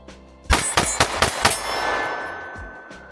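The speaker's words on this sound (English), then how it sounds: "Let's do a couple fast shots this time." A Springfield Hellcat Pro Comp pistol fires a quick string of about five sharp, close shots in just over a second, each with a bright metallic ring, followed by a fading echo.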